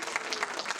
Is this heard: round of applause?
yes